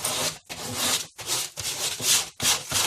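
Dollar store sandpaper scrubbing over wood to weather a DIY mirror wall sconce, heard as five steady back-and-forth rasping strokes, close and fairly loud, with brief gaps between passes and no talking.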